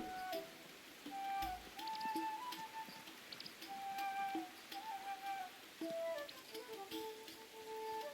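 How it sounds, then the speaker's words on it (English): Soft, steady rainfall in the Tales of the Shire video game, a faint patter under gentle tonal music with scattered light drips and no voices. "It's raining."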